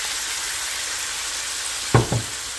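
Shrimp with garlic cooking in a hot pan give a steady sizzle, then two sharp bursts of louder frying as white wine is poured in near the end.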